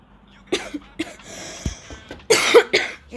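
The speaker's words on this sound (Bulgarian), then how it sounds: "Извинете, че ако кашлям" A sick person coughs several times during an eFootball gaming session, a few sharp close bursts spaced apart with quiet breathing and a throat sound between them.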